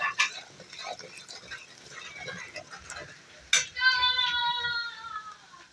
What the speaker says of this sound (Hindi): मिक्स कर लेंगे हल्का सा।